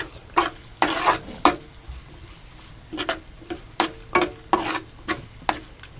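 Onion is sautéed in a pan with turmeric for a savoury semolina dish, and a spatula scrapes and pushes it in quick, uneven strokes over a light sizzle, up close with no voices.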